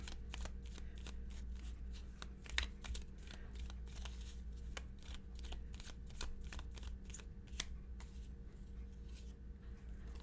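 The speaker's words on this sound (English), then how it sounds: "Let me pull just one of these Making Magic cards." A deck of oracle cards is shuffled steadily for about ten seconds, giving a continuous run of soft papery riffles and flicks with a few sharper snaps, close and quiet, with no talking.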